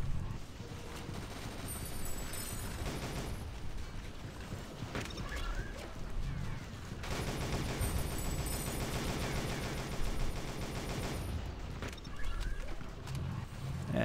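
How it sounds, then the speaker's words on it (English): Dense, continuous gunfire in the video game SGDZ sprays bullets steadily for the whole stretch, loud and busy with rapid overlapping shots and brief lulls, with no talking. "I'm gonna spam some bullets so they are afraid of coming out."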